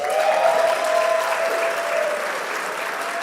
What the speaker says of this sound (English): give applause for LeBron James